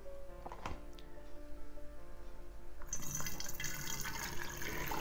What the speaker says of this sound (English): I just pour some apple juice into the bottom of my